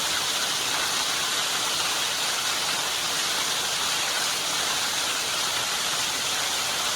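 A waterfall in Sitampeta mandal, Manyam district, roaring as a steady, dense rush of falling water, loud and unbroken for the whole stretch with no voices.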